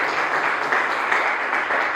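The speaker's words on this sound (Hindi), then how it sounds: "जोरदार ताली लगाएंगे" Loud, dense applause from a congregation at a Sunday Pentecostal church service in Punjab, continuous and even throughout with no voices standing out.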